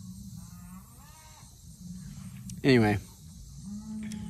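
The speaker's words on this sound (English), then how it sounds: "The cows are all excited over there." Cattle moo once, loud and fairly close, in a single drawn-out call on a farm, between stretches of someone talking and some low background hum.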